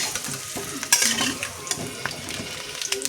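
Fried potato pieces lifted out of hot oil in a home kitchen, a steady sizzle broken by the clink and scrape of a utensil stirring and scooping, with a few sharper metallic taps; no one speaks.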